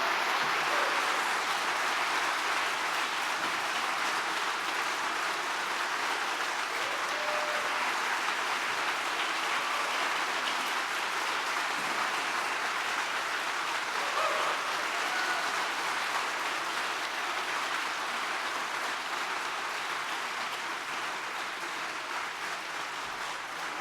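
An audience at Sixth and I gives a sustained, dense round of applause welcoming Rabbi Angela Buchdahl and David Leonhardt, loud and even from start to finish with no speech over it.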